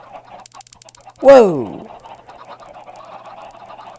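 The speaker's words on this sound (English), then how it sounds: "let me get out of range of the chicken noise and lag here" A single loud, squawking chicken cluck bursts out from a chicken bomb in the Minecraft video game, against faint background noise, and a voice briefly exclaims.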